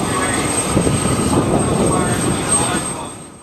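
Bell UH-1 Iroquois Huey military helicopter: a steady, loud broadband engine and rotor roar with a fluttering low rumble, holding level before fading slightly at the end.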